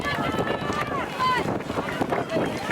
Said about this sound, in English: That's the one thing with the warm weather. It did bring the wind.